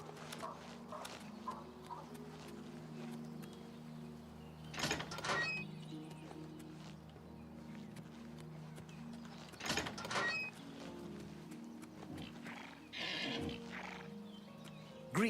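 A horse in the game Oblivion Remastered, with a few short bursts of hoof and whinny-like noise rising over a steady low background hum at moderate loudness.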